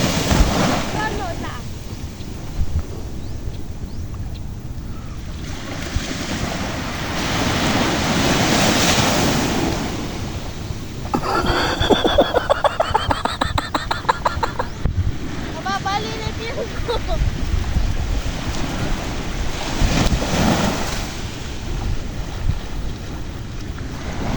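Sea waves wash and surge loudly and continuously, with heavy wind buffeting the microphone and a boat-like rumble underneath, out on open water while fishing.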